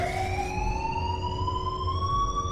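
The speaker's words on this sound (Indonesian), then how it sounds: "Karena suara alarm peringatan kebakaran sudah berbunyi, Mal segera mencari Bowman" Fire alarm sounding in a horror film, a loud rising siren-like wail with steady harmonic tones over a low rumble, no voices.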